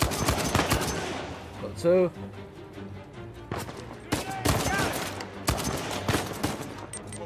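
Gunfire in Uncharted 4 comes in sharp bursts of loud shots and rapid volleys, with pauses between them. A voice speaks briefly in the middle of it.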